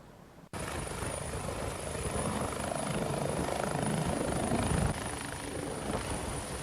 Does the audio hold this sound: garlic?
no